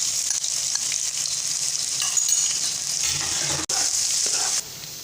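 Garlic and ginger paste frying in oil with black cardamom in a kadhai, a close, loud, steady sizzle with stirring scrapes and a brief break near the end.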